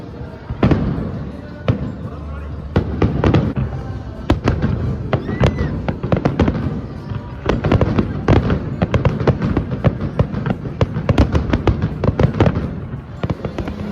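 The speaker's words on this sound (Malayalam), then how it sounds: "വന്നപ്പോൾ തന്നെ നമുക്ക് നല്ലൊരു ഫയർ വർക്കും കിട്ടി" A fireworks display at Global Village fills the air with rapid, loud bangs and crackling bursts in an irregular barrage. Voices can be heard faintly underneath.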